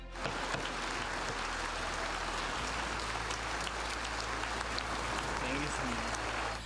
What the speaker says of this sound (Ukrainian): У конгресі українського президента зустріли затяжними оплесками.